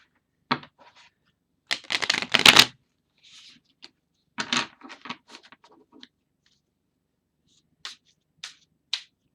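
Tarot cards shuffled by hand for a nine-card spread, giving short bursts of riffling and snapping card noise with quiet gaps between them and a few sharp taps near the end.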